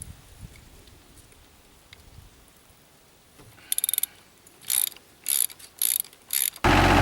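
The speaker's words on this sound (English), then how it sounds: "I'm going to loosen up this zerk" Ratchet socket loosening a grease zerk on the steel track of a Komatsu PC30-3 mini excavator: quiet rustling, then several short bursts of rapid ratchet clicking, each louder than the last, ending in a sustained loud grind.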